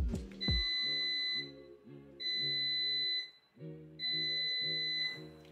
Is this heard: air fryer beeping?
yes